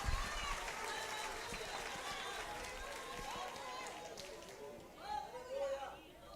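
Church congregation applauding, a broad, steady wash of clapping from a crowd with scattered voices and a speaker heard over it, tapering off toward the end.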